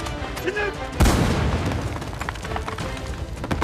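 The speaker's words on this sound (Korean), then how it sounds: "갑자기 성광탄이 터진다." A stun grenade (flashbang) goes off during a raid on a guarded camp, a sudden sharp blast about a second in, followed by a rumbling, crackling tail and scattered impacts.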